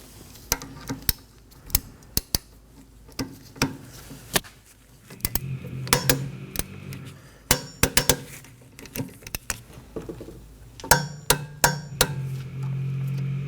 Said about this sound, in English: Now we're going to torque our caliper slider pin bolts down to 32 foot-pounds.